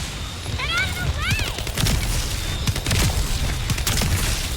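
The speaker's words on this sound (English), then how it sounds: "see that electric explosion? That is specific to my weapon" A burst of electric sparking from an ultimate weapon in a video game, with sweeping zaps and crackles over a steady bed of game noise and background speech.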